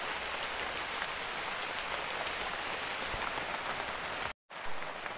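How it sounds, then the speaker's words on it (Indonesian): Heavy rain pours down steadily in a forest, a dense, continuous hiss of drops on leaves and ground, loud and close, broken by a brief cut near the end. "lumayan gede nih kawan hujannya"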